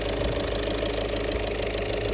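A car engine, just started after repairs, idles steadily with a constant mid-low hum and faint knocking rattle, close and uninterrupted with no talk.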